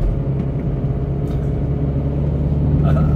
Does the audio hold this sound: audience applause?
no